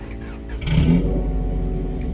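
A 1999 Honda Civic SiR VTEC engine revs up loudly from a steady rumble, swelling to a roaring peak then holding a strong, throaty drone, close by.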